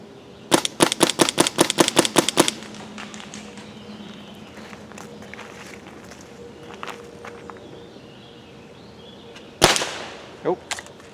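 An Emek MG100 magfed paintball gun fires a rapid string of about a dozen sharp, evenly spaced shots, then a pause with faint background before one more loud crack and a softer follow-up.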